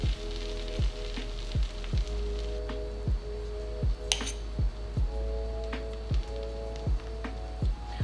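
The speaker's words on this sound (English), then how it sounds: "so I'm gonna go ahead and get this on my griddle" A grilled cheese sandwich of mild cheddar and cream cheese sizzles steadily on a griddle, a soft crackling hiss running throughout, with a faint electronic tone and occasional rhythmic clicks in the background.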